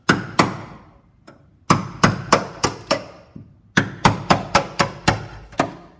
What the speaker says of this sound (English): you can get a hammer and a chisel and you can try and chisel it off